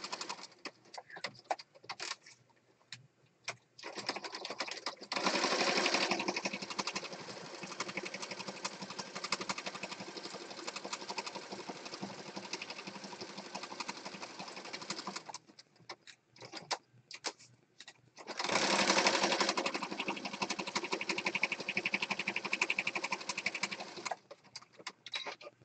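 A sewing machine stitching papers for a junk journal whirs in two long runs, close and moderately loud, separated by quieter pauses with intermittent clicks and handling sounds.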